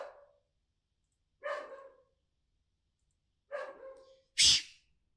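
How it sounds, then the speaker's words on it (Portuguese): A female dog barks in a quiet room, three separate barks spaced a second or two apart, close and clear, followed by a sharp sneeze-like burst at the end, with no talking. "peraí que a minha cachorra tá latindo bastante"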